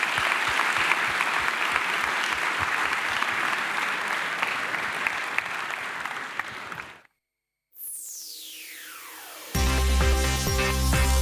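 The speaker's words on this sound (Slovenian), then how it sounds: "pa bi prosil za en aplavz za naše paneliste" Audience applause for conference panelists, a dense, loud burst of clapping from a large crowd lasting several seconds before cutting off abruptly into a sweeping tone and music.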